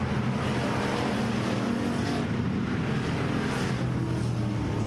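Race cars at RPM Speedway roar steadily as the field gets underway under the green flag during a KR Cup event, a continuous loud engine drone filling the track.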